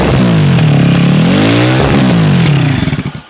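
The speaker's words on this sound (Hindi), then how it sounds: "मैं सुनाता हूँ इसकी साउंड किस तरीके से आने वाली है लगने के बाद, ये देखिए ये आपका आइडल पर, थोड़ी थ्रोटल देता हूँ" A Royal Enfield Himalayan 450 motorcycle revs through its exhaust, rising and falling in pitch over a couple of throttle blips. It then settles into loud, close, thumping idle pulses.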